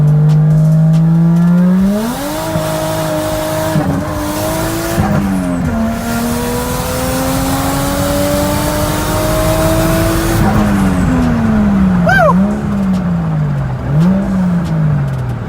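A 1JZ-engined car pulls hard through the gears, its engine note climbing in long rising sweeps with brief drops at each shift, loud and close, followed by a quick rev flutter near the end.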